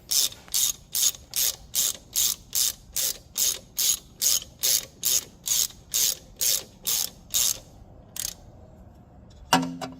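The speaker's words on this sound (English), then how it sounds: "So yeah, we'll get a ratchet and run these in." A hand ratchet clicks in quick, even bursts, about eighteen rapid strokes in a row, while bolts run in during a supercharger install on a 1999-2005 Mazda Miata. A pause and a final clatter of tools follow.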